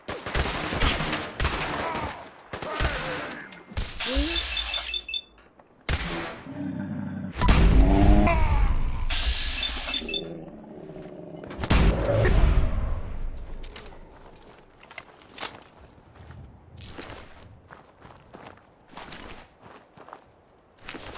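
Video game gunfire rattles in repeated bursts and single shots over about twenty seconds, with loud volleys in the middle, footstep-like thumps between them and quieter sporadic shots toward the end.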